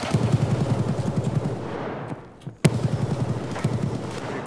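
Rapid bursts of video game gunfire rattle steadily as an enemy is shot, fading briefly before a single sharp crack and more shots resume close and loud.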